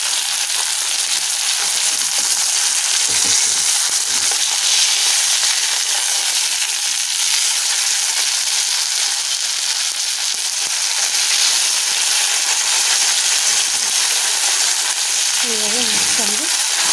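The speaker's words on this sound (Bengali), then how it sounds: "সব মাছগুলো এইভাবে আমরা ভেজে তুলে নেব" Pieces of rohu fish fry in oil, a loud dense continuous sizzle filling the whole stretch, with a couple of short low clatters of turning or handling and no speech.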